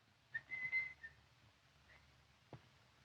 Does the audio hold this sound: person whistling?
yes